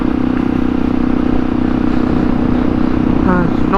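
A Kawasaki KLE500 motorcycle with carburettors running rich rides along, its engine a loud, steady, buzzing hum with wind rush, and a brief faint voice-like tone near the end.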